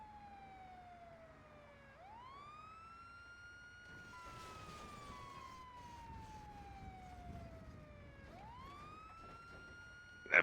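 A wailing ambulance siren in a role-play driving video game rises and falls in long sweeps, about two full cycles, steady and fairly loud with no one speaking over it.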